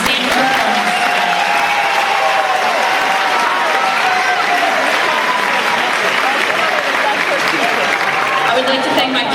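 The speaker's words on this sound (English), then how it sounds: "I would like to give the performers another round of applause for an outstanding performance" An audience at a fourth annual recital gives the performers sustained, dense applause, even and close, with some voices mixed into the clapping.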